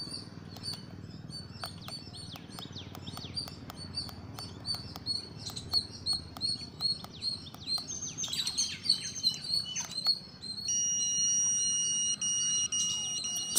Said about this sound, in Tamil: சிக்னல் மேலே சவுண்டு கேட்கும்,